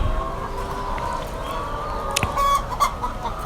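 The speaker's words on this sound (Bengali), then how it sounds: "এগুলো সোনার মুরগি" Caged laying hens cluck in a poultry coop, a close, busy chorus of short clucks and squawks over steady background hum.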